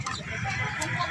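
Chickens cluck close by in a short burst of overlapping fowl calls over a steady farmyard background.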